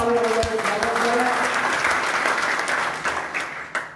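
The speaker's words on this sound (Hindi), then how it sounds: "एक बार जोरदार तालियां बजाकर स्वागत करें।" Loud crowd applause welcoming a guest at an Indian local election preparation meeting, a dense burst of clapping close by that gradually thins out and tapers off.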